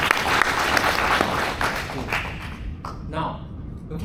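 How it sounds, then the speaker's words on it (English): Audience applause from a nearly full house at an opening address, dense clapping that thins out toward the end, with a voice speaking briefly over it. "Can we give all ourselves a big round of applause for being here?"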